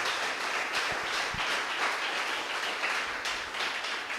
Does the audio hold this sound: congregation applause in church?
yes